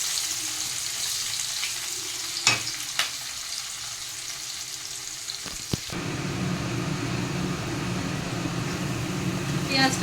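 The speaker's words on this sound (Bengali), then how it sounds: "পেঁয়াজটাকে লাল করে ভেজে নিই।" Chopped onion frying in oil for a Bengali fish curry, a steady broadband sizzle that grows louder and fuller halfway through, with a few brief clicks of stirring.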